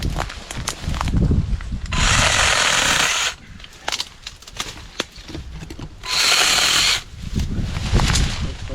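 Two bursts of a Dnipro-M CS-12 cordless mini chainsaw cutting through a branch, each a steady high whine lasting about a second, with quieter handling noise between the cuts.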